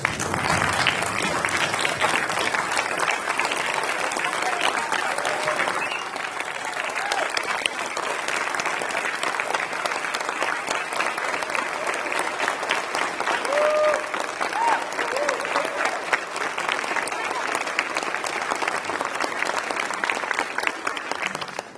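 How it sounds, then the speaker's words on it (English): Sustained applause from an audience on their feet at a Navy retirement ceremony for a master chief, dense and steady clapping throughout with a few voices mixed in. "please get on your feet and give Howell a round of applause"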